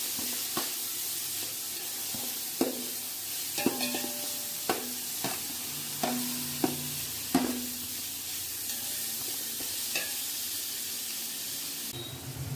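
Ground masala powder stirred and fried in a pan for biryani, a steady sizzle broken by sharp scraping clicks of a spoon against the vessel at irregular intervals, close and alone.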